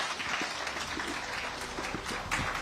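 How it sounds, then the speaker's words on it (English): Audience at WION's Mission Sustainability 2025 event in New Delhi applauding after a conversation with Nitin Gadkari, a sustained wash of crowd clapping heard from a distance in a large hall, fairly quiet and continuous. "The applause, ladies and gentlemen, shouldn't stop."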